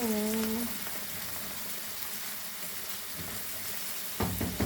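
Garlic and tomato sizzle in a pan with a soft, continuous frying hiss at moderate distance, while a voice speaks briefly at the start and again near the end.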